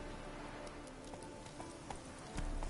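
Roach the horse's hooves clip-clop at a steady trot in a game, soft and fairly distant, with a faint heavier thump near the end.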